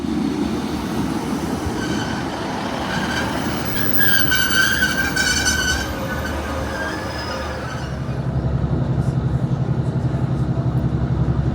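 A Northern rail service train rolls toward Ormskirk with a loud, continuous rumble, a shrill wheel squeal rising briefly midway, then rhythmic clickety-clack over the rail joints toward the end.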